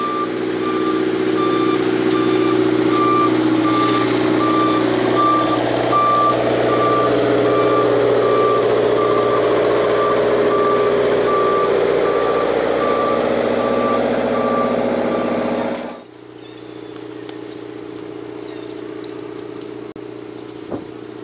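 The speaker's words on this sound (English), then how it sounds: "a Sperry rail truck as it backs up after expecting the main line." A Sperry rail testing truck backs up beside a railway main line, its steady reversing alarm beeping repeatedly over a loud idling engine for about sixteen seconds before the sound drops away to quieter ambience.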